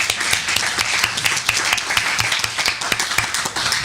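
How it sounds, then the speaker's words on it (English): An audience at a debate on whether God exists claps steadily for a Christian debater, dense, even applause held at a constant level throughout. "A round of applause for David."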